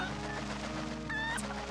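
A chicken in the Zelda: Twilight Princess video game gives a couple of brief, faint clucks over a steady background of game music.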